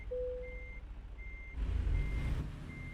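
A truck's reversing alarm beeps in American Truck Simulator, with a short lower tone followed by repeated higher beeps over a low engine rumble that swells partway through.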